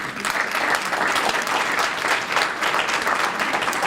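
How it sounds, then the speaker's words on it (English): Steady audience applause at a kick-off event, many hands clapping in a dense, even wash that stays loud throughout without voices on top. "and let us applaud you."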